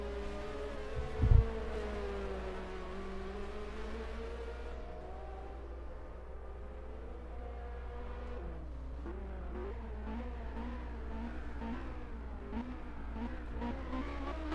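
A 1986 Formula 1 car drives into the pits at the Portuguese Grand Prix, its engine a steady high whine with shifting pitch as it slows, over a loud constant crowd and track hum.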